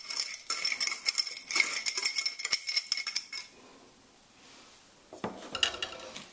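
A spoon clinking against a bowl while mixing a Caribbean garlic pork marinade of hot pepper, shadow benny and salt, a quick run of bright close metallic taps that pauses, then a few more clinks.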